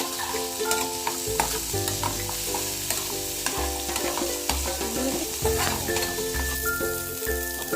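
Chopped potatoes frying lightly in a home kitchen pan, with a steady oil sizzle and repeated scraping strokes of a spatula stirring, close and continuous with no talk.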